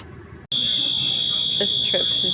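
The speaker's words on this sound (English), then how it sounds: "now an alarm is going off and a security guard just came running down the gangway" A steady high-pitched electronic alarm tone sounds continuously aboard a European passenger train, starting abruptly after a brief gap and holding loud and unbroken over cabin rumble, with faint voices underneath.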